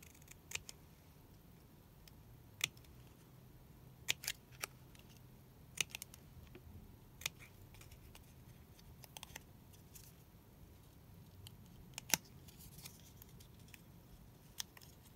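Scissors cutting out a paper card image, soft sharp snips at an uneven pace, some in quick clusters, close but faint over quiet room tone, with no speech.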